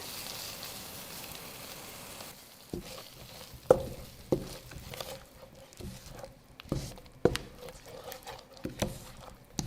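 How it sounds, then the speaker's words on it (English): Green chilies and kasuri methi cook in a creamy okra gravy, giving a quiet sputtering sizzle with scattered pops and soft stirring taps, faint and close, with no talking. "Add 2 fresh green chili, 2 tablespoons of kasuri methi, and cook for a minute more"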